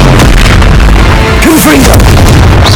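A fire spell bursts with a loud, dense boom in Hogwarts Legacy, wrapped in constant game noise and rumbling effects with a brief shout over it.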